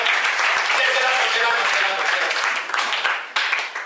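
A church congregation applauds and acclaims the Lord with sustained clapping and cheering voices, loud and continuous for several seconds.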